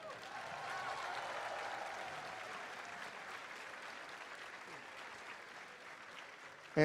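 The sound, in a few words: audience applause for tournament competitors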